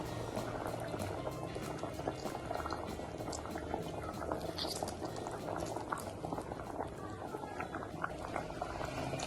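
Sambar curry with tomato, okra and tamarind bubbles in a pot, a close, continuous busy simmer of popping bubbles with no voices.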